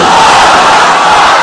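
At a Bengali Islamic religious gathering, a large crowd shouts the takbir "Allahu Akbar" together in one loud, sustained roar that fills the whole moment.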